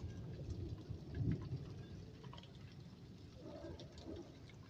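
Steady rain patters throughout, with a low rumble of distant thunder following a lightning flash, swelling briefly and fading away.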